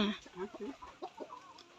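Chickens clucking and fighting at home, short excited clucks and squawks close by, mixed with people talking.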